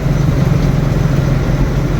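A bus engine drones steadily through a journey, a loud, continuous low rumble with no break and no voices.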